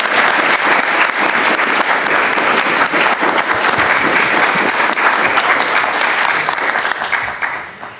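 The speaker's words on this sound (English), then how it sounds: "Everyone, please give a round of applause." Sustained applause from an audience at a pelvic health physiotherapy lecture, a dense steady wash of many hands clapping for the full length that fades away at the end.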